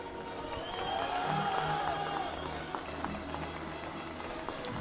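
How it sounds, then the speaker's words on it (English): A small group of Spanish supporters cheers and claps from the stands for a junior recurve archer at an outdoor archery finals in Yankton, 2015, a steady moderate crowd roar lasting several seconds. "Rather small Spanish team cheering for her there."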